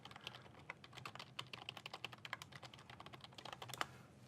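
A password being typed on a computer keyboard: rapid, uneven key clicks close by, fairly quiet, with a few louder strokes near the end and no talking.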